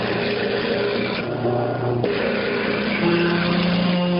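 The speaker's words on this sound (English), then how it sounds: "A stationary disc sander or belt sander provides one of the easiest ways to sand the outside" A wooden bowl's outer surface is pressed against a stationary disc sander, giving a loud, continuous abrasive rasp with a steady motor hum beneath and slight shifts in pitch as the contact changes.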